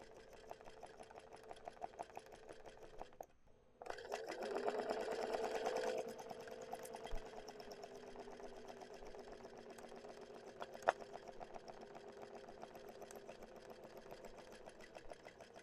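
A sewing machine runs continuously while free motion stitching embroidered letters, a steady close mechanical whir with a brief pause near the start, then a slightly louder burst before settling back to a constant hum.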